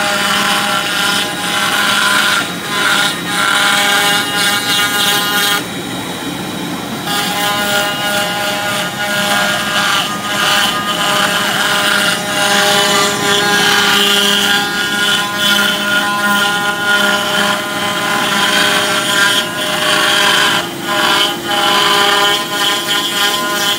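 A CNC router spindle mounted on a Z-axis carves material, a loud high whine with pulsing machining noise that swells and dips as the cutter moves and briefly lets up partway through.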